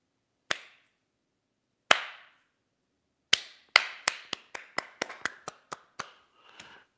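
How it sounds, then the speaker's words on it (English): One person does a slow clap. Single sharp claps come far apart at first, then the pace steadily quickens into faster claps, and a soft flurry comes at the end. The room is otherwise quiet, with no talking. "Will you join me in a slow clap for the CEO of Goya Foods"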